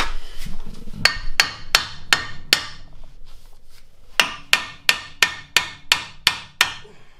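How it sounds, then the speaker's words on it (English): Metal hammer blows ring out on the front suspension of a 2000-2005 Dodge Neon during a suspension kit install, loud and close, in two steady rhythmic bursts of about five and eight strikes with a pause between. "I may need a bigger hammer."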